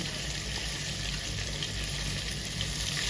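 Onion and tomato, with cashews, fry in a pan with a steady close hiss and sizzle the whole time, and no one talks.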